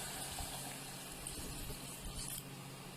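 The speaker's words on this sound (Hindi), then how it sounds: "पानी डाल देंगे।" Water is poured into a pot of beef nihari cooking in a pressure cooker, a steady, fairly quiet rushing and splashing pour that continues throughout.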